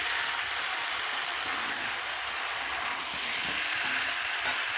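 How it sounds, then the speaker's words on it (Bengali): Meat braises and fries in a pan for Bengali kosha, producing a continuous even hiss of sizzling oil at moderate loudness with no other sounds over it. "মাংস কষাতে বসিয়ে দিয়েছি তো এদিকে মাংস রান্না করছি"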